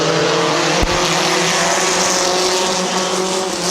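Stock compact race cars at Midvale Speedway come to the green for a race start, several engines roaring together loud and close in a dense, sustained blare with one sharp knock near the start.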